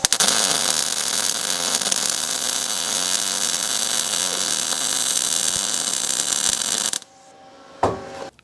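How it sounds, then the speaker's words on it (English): Welding a frame plate for a 3-link coilover suspension on a Land Cruiser build: a loud, steady crackling hiss runs unbroken for about seven seconds, then cuts out abruptly, followed by a short clatter of metal. "So we're gonna try welding in the frame plate and then mocking it up again and seeing where we're at."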